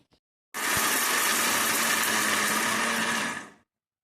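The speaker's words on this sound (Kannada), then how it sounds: "ಮಿಕ್ಸರಲ್ಲಿ ಇದನ್ನು ಗ್ರೈಂಡ್ ಮಾಡ್ಕೊಳ್ಳೋಣ." A kitchen mixer grinder runs steadily for about three seconds, whirring and churning through curry ingredients for a village-style curd sambar. The grinding is loud and close, with a click at the start and a sharp cutoff when it stops.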